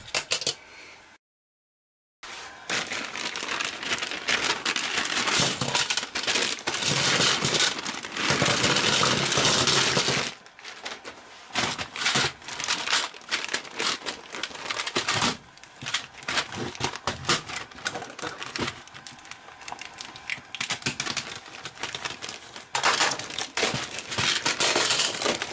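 A big pile of two hundred plastic battery holders being handled and shuffled, giving a dense, continuous clatter and crinkle of many small plastic parts knocking together, close and fairly loud, with a short pause near the start.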